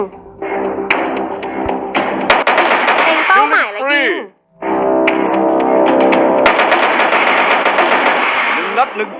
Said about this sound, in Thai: เล็งเป้าหมายและยิง